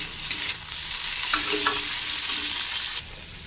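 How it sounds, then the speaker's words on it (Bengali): Bitter gourd and onion fry with turmeric and salt while being stirred, a loud continuous sizzle with spatula scrapes and clicks near the pan, easing slightly at the end, no voices. "এবার দিয়ে দিলাম নুন ও ভালো করে নাড়াচাড়ি করে নেব"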